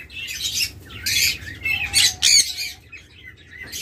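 Lutino red-eyed Fischer's lovebirds give several loud, harsh squawks and chirps in quick bursts, close by, with no talk.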